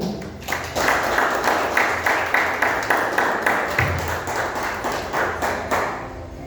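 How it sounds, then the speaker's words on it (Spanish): A church congregation claps in a steady rhythmic beat, roughly two claps per second, loud and close, sustained throughout with faint room sound beneath. "Den aplauso al Señor."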